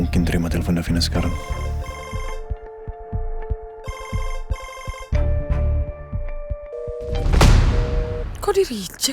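A phone rings with an incoming call, its electronic ringtone sounding in repeated bursts over a musical backdrop, with a short swell of noise near the end.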